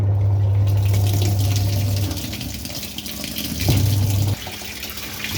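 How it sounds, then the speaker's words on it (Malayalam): Water runs steadily from a tap, a continuous gushing hiss over a low hum that cuts in and out, with no voices. "നമുക്ക് വെള്ളം തുറന്ന് നോക്കാം"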